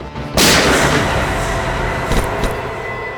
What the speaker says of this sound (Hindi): गोली चली क्या बस?